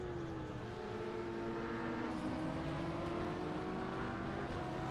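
A rough, nasty-sounding GT race car engine drones steadily at Daytona in a racing video game, a continuous buzzing tone with slowly shifting pitch, heard alone without talk.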